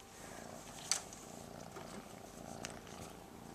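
A cat purrs softly and steadily close by, a low continuous rumbling hum with a brief faint sharp sound near the start and another small one later.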